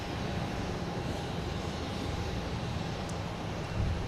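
A JetBlue Airbus A220 airliner at Boston Logan, heading for Atlanta, produces a continuous broadband engine roar at a middle distance, steady and even, with a slight swell at the very end and no voices.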